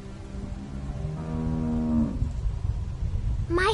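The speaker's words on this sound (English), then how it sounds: "How do you like that cow, Clint?" A single drawn-out cow moo from The Walking Dead video game, low and steady for about a second, over a faint game-like ambient background, followed by a brief rising tone.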